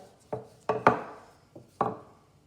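Hands spread balls of cheese bread dough on a work surface, giving five soft, close pats and presses with short gaps between them, each followed by a brief rubbing decay.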